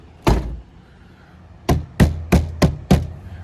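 A car's back door, hollow and untreated, is knocked or shut repeatedly: one thud, then five quick, resonant knocks in an uneven rhythm, heard close with no voices.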